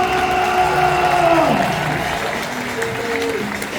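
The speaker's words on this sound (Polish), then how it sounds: "to może ja poproszę raz jeszcze jakieś brawa dla Adama Małysza" A crowd applauds steadily at a Red Bull Speed Ways event in Wrocław, a dense, continuous clapping that holds level throughout while a voice talks over it near the start.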